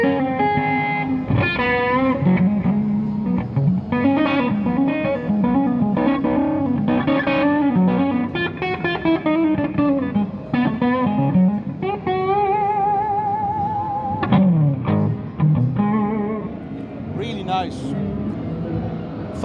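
Distorted electric guitar through a Koch Jupiter 1x12 combo amp with extra gain and built-in reverb, reverb tail on sustained chords and bends, steady and fairly loud.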